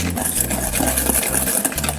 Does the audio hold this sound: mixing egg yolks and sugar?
yes